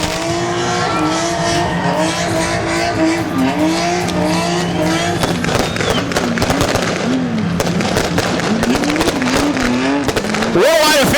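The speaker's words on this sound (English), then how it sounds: "Who's up for a burnout against the fence?" A production sedan does a burnout against the fence at Rockhampton Speedway, its engine revving and wavering while the tires shriek continuously, loud and close, with an announcer talking over the top and crowd noise behind.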